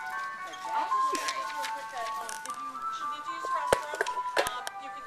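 Close outside, an ice cream truck passes with a chiming tune looping, its melody running under voices and a few sharp knocks in the room.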